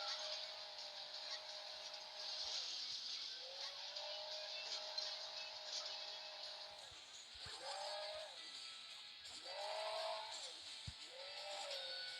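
Hill Climb Racing 2 game car on a desert track, a steady synthetic engine drone with rising revs that swell and dip several times, continuous and fairly loud throughout.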